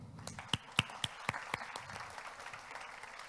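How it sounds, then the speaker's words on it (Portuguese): Applause from a small gathering at a team event, faint and somewhat distant, made of scattered separate claps over a low background murmur. "Uma salva de palmas para vocês."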